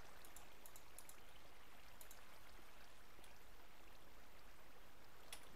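Water just placed in Minecraft flowing as a faint, steady trickling wash with a few light droplet ticks, soft and continuous with no talk.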